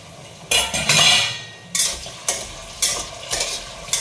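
Food fries in a pan under loud, close stirring: repeated scraping strokes of a utensil against the metal come in bursts over a low sizzle, with no speech.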